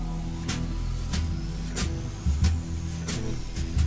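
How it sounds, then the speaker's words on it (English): A small black car drives along in This is the Police 2, a steady engine hum under regular thumping pulses at roughly half-second intervals, moderately loud and without talk. "Oh, look at little black car go."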